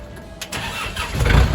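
A used 2012 Kubota L4708 farm tractor's diesel engine cranks and catches, then its rumble swells louder and deeper as the machine pulls away, close by.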